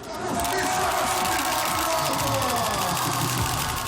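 A large hockey crowd roars and chants continuously, a dense wall of many voices shouting together in a big reverberant arena.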